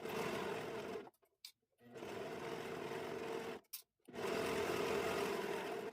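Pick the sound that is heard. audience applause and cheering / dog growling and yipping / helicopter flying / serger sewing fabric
serger sewing fabric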